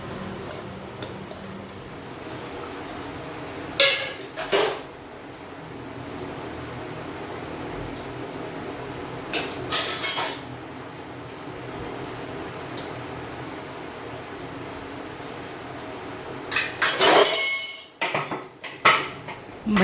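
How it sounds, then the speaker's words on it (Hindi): Dishes, pots and utensils clatter while being washed in a home kitchen, with scattered clinks and knocks over a steady background hiss and a brief louder burst of clanking near the end. "और अब जा रही हूँ बर्तन धोने।"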